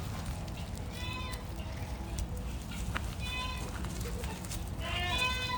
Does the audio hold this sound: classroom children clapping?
no